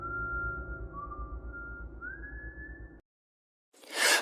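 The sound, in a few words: whistling at night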